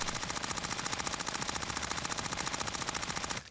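An MP5 submachine gun fires in a video game while aiming down sights, a rapid, even stream of loud full-auto shots for about three and a half seconds that cuts off abruptly, with no talk.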